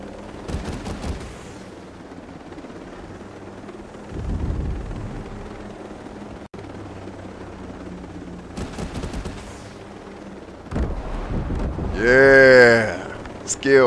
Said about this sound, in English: Everybody wants to fly a helicopter under a bridge, don't they?